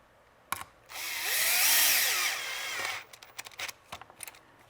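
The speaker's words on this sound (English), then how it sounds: "into the M2C mount, which I should just Dremel and remove." A Dremel rotary tool cuts into a plastic M2C chassis mount on a Traxxas Sledge RC truck, giving a loud, sustained high-pitched whine of about two seconds that rises and then falls, with short clicks and taps before and after it.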